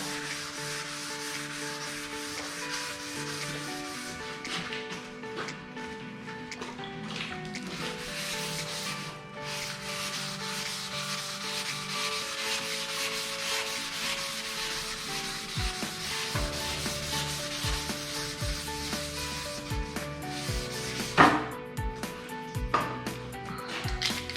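Wet sanding with 400-grit paper on a sanding block makes a steady, close rubbing swish in long repeated strokes, with a few louder scrapes near the end.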